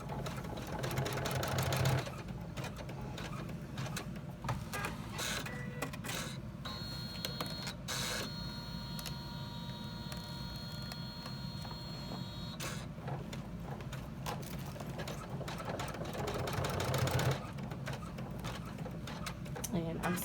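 An embroidery machine stitches a pleat on an in-the-hoop flat-bottomed bag, a steady rapid mechanical chatter with tapping needle pulses throughout, fairly quiet, with brief handling sounds and a voice speaking at moments.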